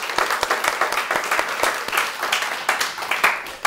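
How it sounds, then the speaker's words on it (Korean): A church congregation claps together during a revival service, brisk close applause with distinct individual hand claps standing out in an irregular patter. "박수로 한번 하나님께 영광 돌리겠습니다"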